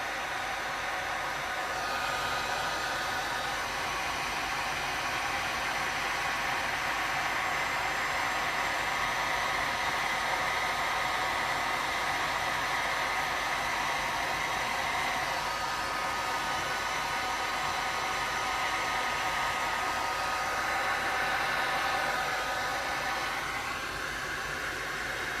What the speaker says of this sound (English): I'm going to give it a high fan and a medium heat.